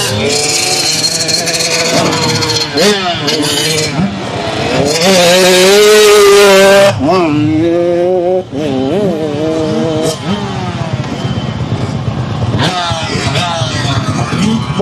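A motocross dirt bike revs loudly on a muddy track at East Fork MX, its engine climbing and falling in repeated throttle bursts with a sustained high rev in the middle.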